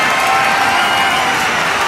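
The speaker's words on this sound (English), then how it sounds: "this crowd is on their feet in full appreciation" Arena crowd on its feet cheering in the WWE 2K25 wrestling game, a loud sustained roar of voices that stays steady and dense throughout.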